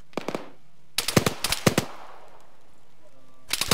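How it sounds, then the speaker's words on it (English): Bursts of automatic gunfire in a video game: a short volley, then a longer rapid string of shots, and another burst at the end, loud and close with quiet gaps between. "I'm hearing gunshots like right in front of us."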